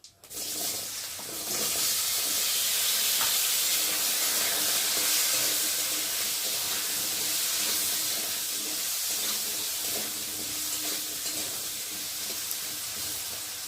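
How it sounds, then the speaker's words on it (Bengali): Small cut potato pieces sizzle in hot oil over tempered spices while being stirred, a dense continuous hiss that stays loud and steady throughout with faint scraping underneath. "এখন এই যে কেটে রাখা ছোটো ছোটো করে আলুগুলোকে দিয়ে ভালো করে তেলের মধ্যে কষিয়ে নেব"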